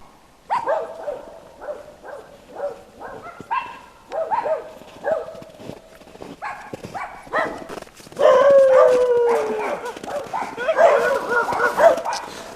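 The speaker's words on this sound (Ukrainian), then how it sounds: "Нас вітають всі собаки околись." Several dogs bark and yip in bursts around the old town of Kamianets-Podilskyi, some near and some farther off, with a whimper and louder sustained barking toward the end.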